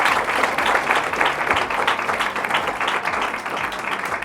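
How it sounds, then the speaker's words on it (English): A room full of people at an opening bell ceremony applauds their teachers, a dense, even roar of clapping that stays strong for several seconds. "I'd like the whole room to give your teachers a huge round of applause"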